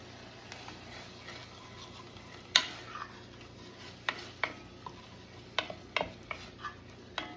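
Garlic fries quietly in a pan for lemon garlic rice, a soft faint sizzle broken by repeated sharp scrapes and taps of a utensil stirring.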